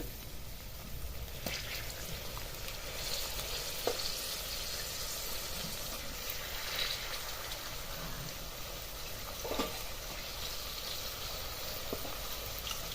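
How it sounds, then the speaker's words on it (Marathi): Soaked moong dal sizzles and fries in a cabbage tempering, a steady close crackle with a few soft stirring scrapes and knocks from the pan, and no one speaking. "या फोडणीमध्ये परतून घ्यायची"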